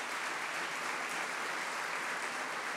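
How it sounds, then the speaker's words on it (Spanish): A university anniversary ceremony audience applauds its national champion teams, a dense, even wash of many hands clapping, loud and continuous from start to finish, with no voices on top. "Yo creo que aquí merece un aplauso nuestras campeonas nacionales"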